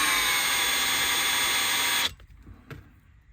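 Electric drill whirring at high speed with a dense steady whine for about two seconds, then cutting off abruptly, followed by a quiet workshop with a small knock.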